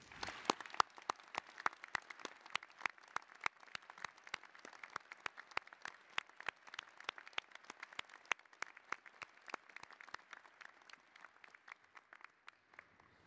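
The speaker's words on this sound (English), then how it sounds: "Please join me in a big round of applause for our graduates." Graduates at an Iowa State University College of Liberal Arts and Sciences Fall 2023 convocation get sustained, moderately distant applause, a dense patter of claps that thins and fades near the end.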